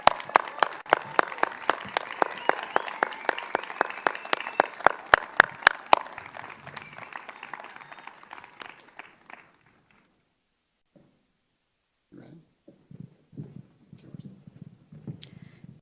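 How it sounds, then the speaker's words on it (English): Applause for a graduating high school class at a commencement ceremony, steady clapping from a small group that fades out after several seconds, followed by quiet footsteps and shuffling. "please give another round of applause for the class of 2020"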